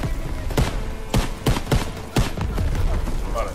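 Sharp gunshots crack in the Call of Duty: WWII D-Day mission, several separate loud bursts spaced irregularly over a steady game backdrop.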